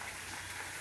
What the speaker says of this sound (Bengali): খালি পায়ে বর্ষার বৃষ্টির মধ্যে হাঁটছি।